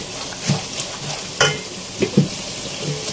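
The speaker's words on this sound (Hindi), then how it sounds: "इस मसाले को हमें अच्छी तरह से बिल्कुल भून लेना है" Masala with salt is roasted in a pan for chana dal kofta: a steady low sizzle broken by several distinct spoon stirs and scrapes, close and fairly loud.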